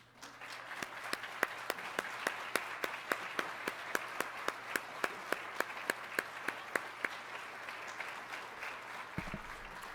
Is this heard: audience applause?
yes